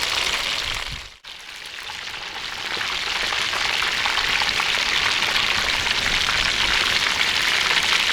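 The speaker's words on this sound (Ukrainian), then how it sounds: "Курочку так само обсмажую окремо." Chicken fries in a pan over an outdoor campfire, a loud, continuous broadband sizzle close by, briefly dipping near the start before swelling back to a steady roar.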